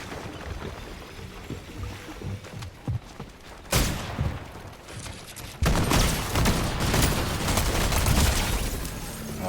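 Gunfire in Fortnite, a busy spray of rapid shots and crackling impacts running continuously, surging louder halfway through and staying dense to the end.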